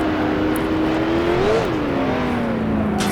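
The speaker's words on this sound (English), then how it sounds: "can hear the engine roaring behind me as we hop the curb quite a lot there" A 1966 Can-Am race car engine in the Grand Prix Legends sim at Mosport roars continuously and loudly, its pitch rising then dipping and climbing again as it hops the curbs, with no voices over it.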